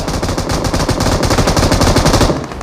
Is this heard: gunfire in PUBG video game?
yes